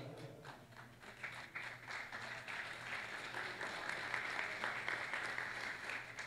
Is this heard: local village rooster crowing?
no